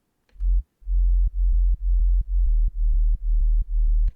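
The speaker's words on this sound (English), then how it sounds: "And then a sub bass." Synthesized sub bass for a progressive house track, a deep pure tone played as a run of about eight evenly spaced sustained notes, loud and dry with nothing else beneath it.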